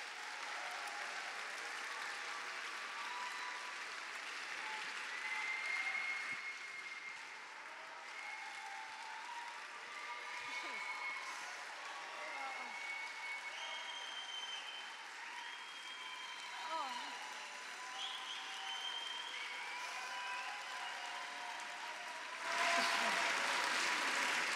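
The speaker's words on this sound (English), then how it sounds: "why don't we cheer them on as they come?" An audience at a memorial service breaks into sustained applause, a dense, steady clapping that fills the room for over twenty seconds, with a few voices and cheers scattered through and a louder swell near the end.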